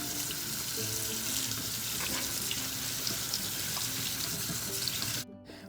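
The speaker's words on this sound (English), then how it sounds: "While you watch me rinse off my vegetables" Vegetables are rinsed under a running kitchen tap in a steady, close splashing stream that continues evenly, then cuts off abruptly just before the end.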